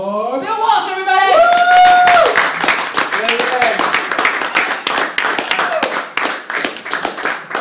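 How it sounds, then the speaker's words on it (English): Stand-up comedy club audience breaking into loud applause and scattered clapping for a comedian taking the stage, dense and sustained, with a voice shouting over the start. "Give a warm round of applause, people, for Bill Walsh"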